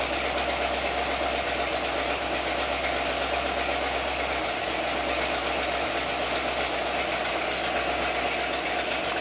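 Ford EFI 460 V8 idling roughly: a continuous low engine drone with uneven knocking pulses and a constant broadband hiss, heard up close and alone for the whole stretch.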